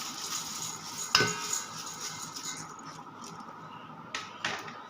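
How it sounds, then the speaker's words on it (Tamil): A ladle stirs a spiced poha mixture of fried flattened rice in a pot, giving soft scraping and rustling with a few sharper clinks of metal against the pot, close and fairly quiet. "ஒரு கரண்டி எடுத்து நல்லா கலக்கி விட்டுக்கோங்க"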